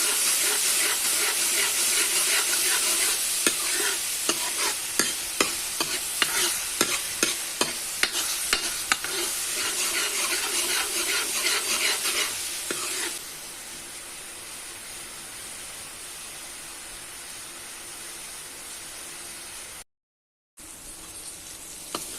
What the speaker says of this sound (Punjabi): ਇਸ ਤਰ੍ਹਾਂ ਟਮਾਟਰ ਨੂੰ ਵੀ 2 ਤੋਂ 3 ਮਿੰਟ ਤੱਕ ਪਕਾਉਂਦੇ ਰਹਾਂਗੇ